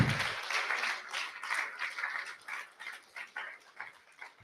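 Scattered clapping from a small audience at a film screening and anniversary event, thinning out over a few seconds. A brief low voice is heard at the start.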